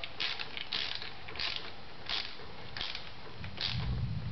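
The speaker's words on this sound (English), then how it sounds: "coming back with my ratcheting screwdriver with a 5/16 socket on it" A ratcheting screwdriver fitted with a 5/16 socket clicks in quick bursts while tightening a hose clamp on a high-tunnel overhead irrigation line, about six short ratcheting strokes in a steady rhythm, close and fairly quiet.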